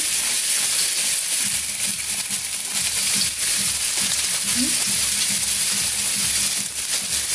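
Dried anchovies fry in a hot pan with a steady loud sizzle and hiss, while a utensil stirs through them. The sound runs continuously from start to end.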